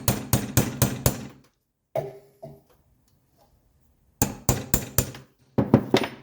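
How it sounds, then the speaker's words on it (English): A hammer strikes a chisel worked around the rear seal of a 1983 Mercedes 300CD, giving sharp metallic blows. Two bursts of about five quick, evenly spaced hits come close and loud, with a few clunks in the quiet gap between them. "sometimes I have to go around it with a chisel to loosen it up"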